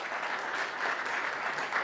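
An audience at a Lompoc city council meeting bursts into brief, steady clapping from a modest crowd in a meeting room, with no voices over it.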